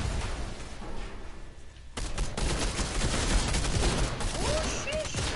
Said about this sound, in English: Someone firing grenades.